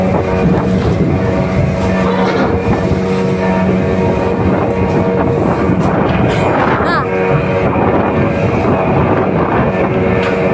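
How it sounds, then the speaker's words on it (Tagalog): Strong wind roars continuously across a microphone at a sea port, a dense, loud rumble with vessel and crowd noise mixed in throughout. "grabe yung hangin, oh"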